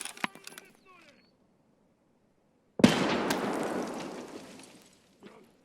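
A grenade underhanded in a first-person shooter bursts in one sudden loud blast that rolls off over a couple of seconds, after a quieter stretch of faint game noise, with a small pop near the end.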